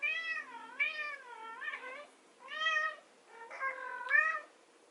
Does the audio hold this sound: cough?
no